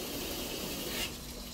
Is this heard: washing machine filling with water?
yes